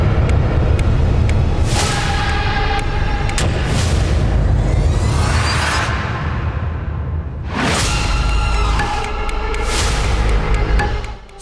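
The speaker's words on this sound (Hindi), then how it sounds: "तालिबान का बदला, पेशावर में बड़ा धमाका।" Heavy explosive booms from a bomb attack in Peshawar arrive in several loud, deep bursts, mixed with whooshing rushes and rumbling between the blasts.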